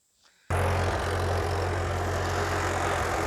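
A Deutz Allis 5220 tractor engine fires up abruptly after a brief quiet moment, then runs steadily with a deep, loud, even drone close by.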